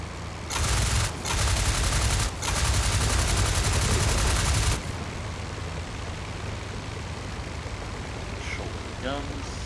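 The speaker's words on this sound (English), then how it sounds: "Guns." Bursts of aircraft machine gun fire in the World War I flight game Flying Circus: two short rapid volleys then a long sustained stream of loud rattling shots, dropping to steady engine drone.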